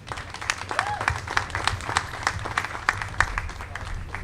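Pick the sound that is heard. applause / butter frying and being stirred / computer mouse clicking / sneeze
applause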